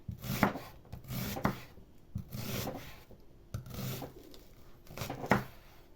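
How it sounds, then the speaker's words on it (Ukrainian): A large onion is sliced into half rings with a knife, each stroke a short crunchy chop in slow bursts, several cuts close up with quiet gaps between them. "А самі напівкільцями ріжемо велику цибулину"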